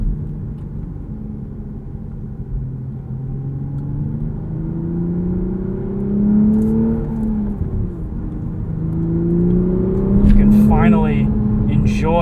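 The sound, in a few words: Toyota GR Supra 3.0 manual engine while driving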